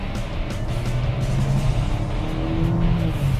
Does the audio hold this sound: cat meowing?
no